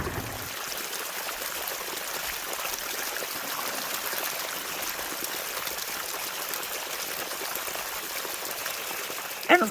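Muddy water rushes steadily and continuously through a gold-mining sluice box header box close by, a constant even flow with a brief knock right at the end.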